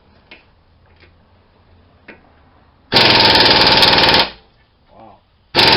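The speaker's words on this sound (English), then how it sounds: "now I'm going to take off these two 21mm nuts" An impact wrench loosening two 21mm nuts on a 2012 Jeep Patriot, with a few faint clicks, then a loud burst of rapid hammering lasting over a second and another burst starting at the end.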